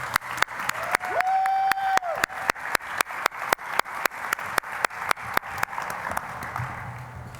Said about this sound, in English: One more round of applause for Eric.